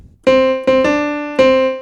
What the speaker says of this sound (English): That's the sound of a major second.